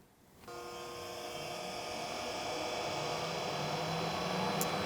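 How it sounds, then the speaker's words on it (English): A Kingston HK 3000 oil country lathe with a 12.5-inch bore and a 30 by 120 inch capacity starts its spindle and brings it up to speed. A steady mechanical hum and whine swells and holds, loud and close, with no voices. "activate your spindle and bring it up to speed"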